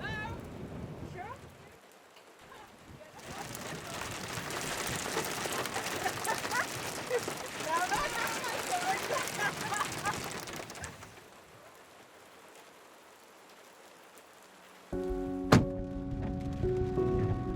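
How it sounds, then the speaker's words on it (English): Rain falls steadily for several seconds in the middle, a dense broadband wash, then eases to a quieter background with a brief sharp knock near the end; voices are faintly present. "Okay, it's going to rain."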